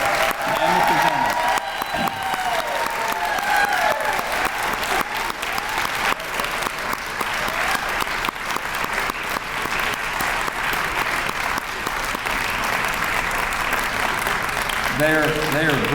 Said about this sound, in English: Please join me in another round of applause for tonight's inductees and the presenters.